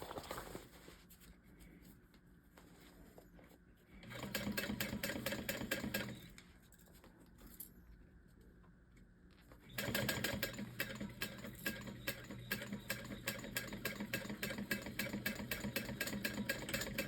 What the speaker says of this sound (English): Let's go ahead and just sew that up.